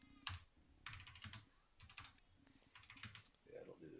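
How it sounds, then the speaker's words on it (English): Bursts of clicking on a computer keyboard come in several quick clusters separated by short pauses, close and fairly quiet, with faint low voices in between. "You hear all those clickety clacks on the keyboard."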